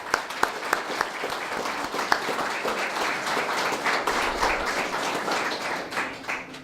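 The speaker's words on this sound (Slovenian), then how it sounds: "mislim, da mu lahko zaploskamo še za naslednji mandat" Audience applause at a seniors' gathering in a restaurant, a steady wash of many hands clapping for several seconds, with a few sharper individual claps standing out near the start.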